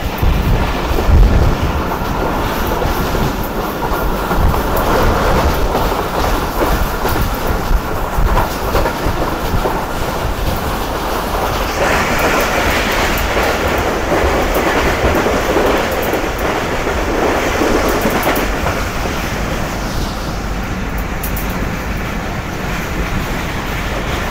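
Gauri Express passenger train speeding past on the Wazirabad–Khanewal branch line in Pakistan, a loud continuous rushing roar of wheels and coaches with rail clatter, sustained for the whole stretch with no talk.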